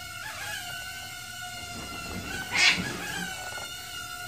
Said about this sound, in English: My cat's not getting along back there.